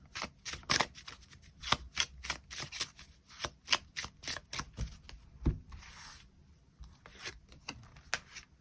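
Tarot cards are shuffled and drawn by hand in a rapid, steady run of crisp riffling flicks and slaps, close up and continuous throughout, with a brief softer pause near the end and no talking.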